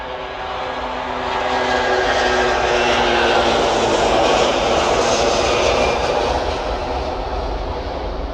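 An Airbus A330 airliner at Manchester airport roars past with a broad, steady jet engine rumble that swells to a peak mid-pass and then eases slightly, loud and close with no voices.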